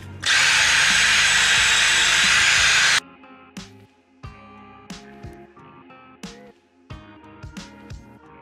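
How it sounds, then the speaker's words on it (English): An angle grinder on welds of steel subframe reinforcement plates gives a loud, continuous rasping whine for about three seconds, then stops, leaving scattered sharp metallic clanks and knocks. "once we grind those down"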